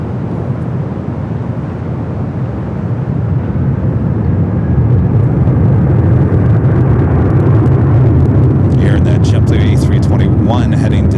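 An Airbus A321 bound for JFK rolls down runway 24 left at LAX, a loud, continuous engine roar that swells and grows stronger midway, with radio chatter cutting in near the end.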